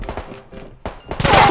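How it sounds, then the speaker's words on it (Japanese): Gunfire rattles in the Knives Out battle royale video game, with short bursts of shots building to a loud, dense volley at the end. "銃声する"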